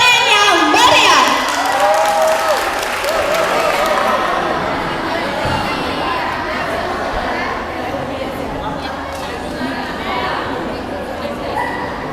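An audience at a school event for SMK Al-Iman Terpadu students claps and cheers loudly, then settles into steady crowd chatter and murmuring voices, with a dog barking somewhere nearby.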